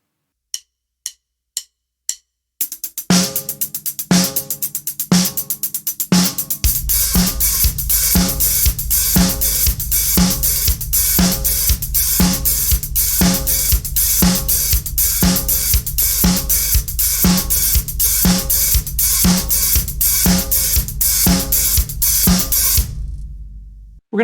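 A drum kit plays a disco groove: a few count-in clicks, then sixteenth-note hi-hats with snare, joined after two bars by a steady four-on-the-floor kick, loud and close and continuing without speech.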